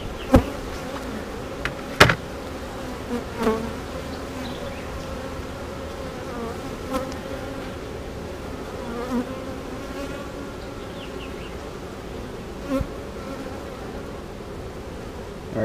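Soft, steady buzzing of many honey bees close by around an open hive, with a few sharp clicks and knocks scattered through.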